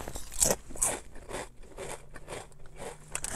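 Someone bites and chews Ruffles Flamin Hot BBQ ridged potato chips close to the mic, making repeated crisp crunches that fade into softer chewing, with no talk over them.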